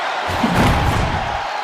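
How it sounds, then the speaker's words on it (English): An ambulance door slams shut in the WWE 2K24 wrestling video game. A dull thud sounds inside a steady, loud arena crowd roar that runs through the whole moment. "And they shut the door and have won this ambulance match."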